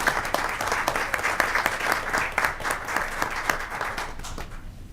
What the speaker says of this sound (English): And one more round of applause for our students at the moment.